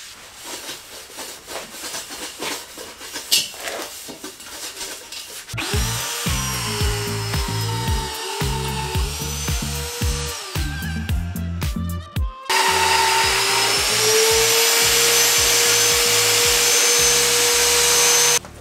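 A VEVOR magnetic drill boring through steel for a homemade ladder, loud sustained motor whine and grinding cut in long stretches, with clunks and short pauses between runs.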